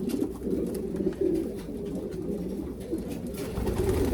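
Racing pigeons coo in a breeding loft, soft repeated low throaty calls overlapping from several birds nearby, steady throughout with light rustling.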